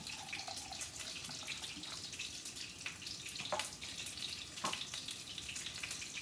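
Vermouth trickles from a bottle into a measuring cup in a home kitchen, a faint continuous liquid pour with small splashy sounds and quiet background, no talking.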